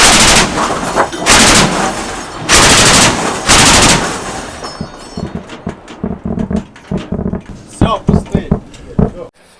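Bursts of machine-gun fire ring out at night as border guards shoot at enemy drones: long, loud volleys at first, then scattered sharp shots and pops, with voices talking nearby.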